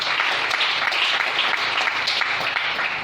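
A church congregation claps and cheers in praise, dense steady applause at close range with no pauses.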